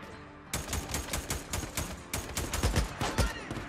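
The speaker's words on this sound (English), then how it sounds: "this is a very nice machine gun" Rapid machine gun fire in the video game Days Gone, a dense run of sharp, loud bursts rattling almost continuously after a brief quiet start, close and prominent.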